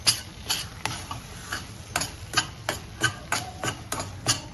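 A spoon stirring ground cumin into thick amla (gooseberry) candy mixture, steady rhythmic scraping strokes against the pan, about a dozen close, crisp clicks in an even beat with no voices.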